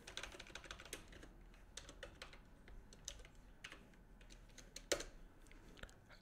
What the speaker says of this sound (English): type the next command sfc forward slash scan now and hit enter